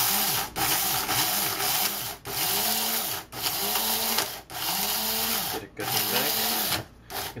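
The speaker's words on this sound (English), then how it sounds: "You can grind half of it now, half of it later, or you can grind it all at once." Roasted spices for a Xinjiang spice mix ground in an electric grinder, a whirring motor in repeated pulses of about a second each, separated by brief pauses, close and fairly loud.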